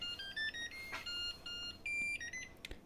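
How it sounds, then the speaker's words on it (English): An electric kettle beeps as it finishes heating during a pour-over coffee preparation: a series of clear, high electronic tones in short stepped runs, moderately close, with no talk over it. "That was the sound of the kettle actually finishing."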